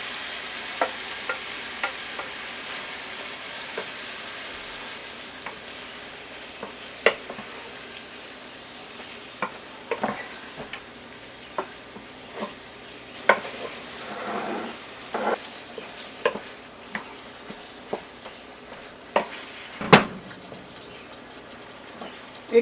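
Ground pork and ground round fry in a pan with a steady soft sizzle, broken by sharp clicks and scraping taps as the meat is spread and stirred.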